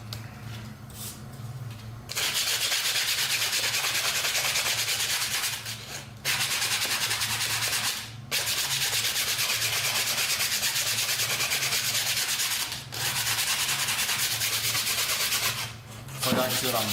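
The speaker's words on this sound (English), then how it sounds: "I'm just scuffing it up and getting rid of any, basically making it easier to bond." Plastic edges are scuffed with sandpaper to roughen them before PLA welding, a close, steady rasping rub in long continuous strokes broken by a few brief pauses.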